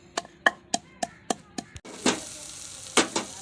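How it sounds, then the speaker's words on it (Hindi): Tadka tempering for a green chili curry in a Pakistani village kitchen: a run of sharp, evenly spaced utensil taps, then a sudden loud, close burst of hissing sizzle that continues with a couple of stronger surges. "अभी ये लग रहा है तड़का"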